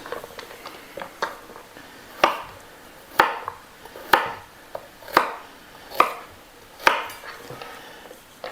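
A knife cuts vegetables into bite-sized chunks for beef bourguignon, each stroke landing as a crisp, close thud on the board at a steady pace of roughly one per second.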